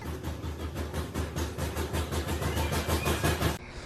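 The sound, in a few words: truck engine rattling, possible lifter tapping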